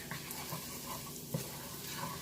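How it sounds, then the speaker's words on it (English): Steady, low-level sizzling of garlic in hot butter, a continuous crackly hiss with a faint clink near the middle, no talking. "cook the garlic until it's like nice and sizzling"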